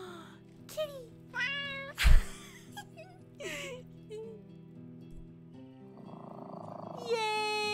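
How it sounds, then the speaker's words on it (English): A cat gives a run of short, rising and falling meows, several in quick succession over a faint steady background hum. "I love Skyrim Cat so much"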